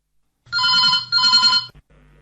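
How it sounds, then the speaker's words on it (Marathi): A telephone rings twice in a steady double burst for a caller getting through to a radio call-in show on FM 102.4 Akola, loud and clear with no talk over it, followed by a brief faint tail. "कार्यक्रम सूरसंवादसाठी फोन लागलेला."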